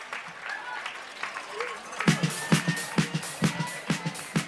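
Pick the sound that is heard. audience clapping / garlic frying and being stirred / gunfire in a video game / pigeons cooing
audience clapping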